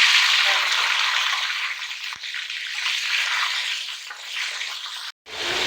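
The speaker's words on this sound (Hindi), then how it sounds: "कलेजी हमने घी में डाल दिए। इसको हम अच्छी तरह फ्राई करेंगे।" Mutton liver sizzling and frying in hot ghee with cumin, a dense steady hiss close by that briefly cuts out near the end.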